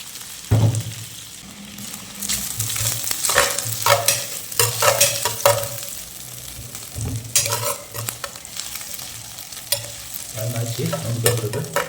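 Pieces of mutton sizzling and frying in hot oil, stirred with repeated scraping strokes of a spoon against the pan, close and moderately loud, with a steady hiss under the stirring.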